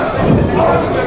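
Wrestling arena crowd at a Motor City Rumble Royale event roars steadily throughout, a dense continuous cheer filling the whole moment with no single voice standing out.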